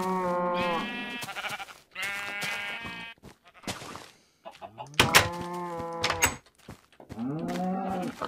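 Sheep and other farm animals in the game Minecraft bleat and moo repeatedly in a pixelated farm pen, loud, close and tonal calls coming in clustered bursts with brief gaps between them.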